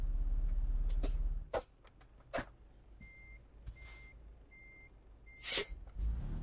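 A truck reversing in Euro Truck Simulator 2, its backup alarm giving four evenly spaced steady beeps over a low engine rumble, with some scattered clunks and air noises around them.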